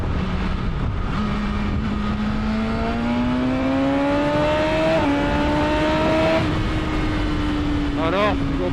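A motorcycle engine and exhaust revving on a night ride among bikers: a steady droning tone climbs gradually in pitch and settles, closing with a quick burst of sharp popping, set against constant wind rush.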